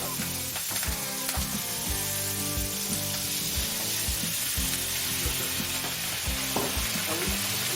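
Asian vegetables sizzle and crackle steadily as they stir-fry in a touch of oil for bibimbap, with continuous loud frying and occasional clacks of stirring, no voices.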